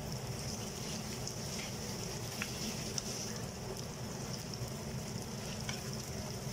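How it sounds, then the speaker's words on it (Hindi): Mutton liver fries on a tawa over medium flame, giving a steady, moderately quiet crackling sizzle with occasional small pops and no talk. "अब ये कलेजी डाल के हम इसे अच्छे से फ्राई कर लेंगे."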